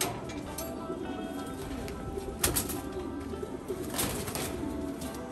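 Pigeons cooing nearby, soft repeated throaty coos with a brief flutter, heard over steady background noise.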